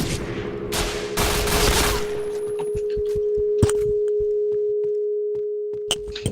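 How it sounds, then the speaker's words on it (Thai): VZ52 gun in the shooter game Point Blank firing a rapid burst of loud, sharp shots up front, followed by scattered single cracks and clinks over a steady electronic tone. "ปืนนี้ชื่อว่า VZ52 ครับ"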